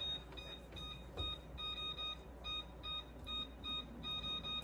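Repeated electronic beeps from an appliance, a steady run of short, evenly spaced tones sounding close by with no one talking.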